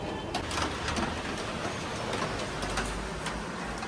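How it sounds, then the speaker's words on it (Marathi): Steady overnight rain falls throughout, a dense hiss with scattered drips and taps close by, and no voices. "रात्रभर मस्त पाऊस पडतो आहे ते दाखवतो काय तुम्हाला"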